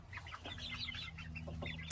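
Several chickens cluck and chatter softly near a chicken coop over a low steady hum, with no talking.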